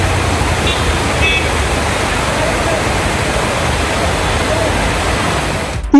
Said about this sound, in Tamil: வெள்ளி நீர்வீழ்ச்சியில் தண்ணீர் மிதமாக கொட்டும் அழகை சுற்றுலா பயணிகள் ரசித்து மகிழ்ந்தனர்.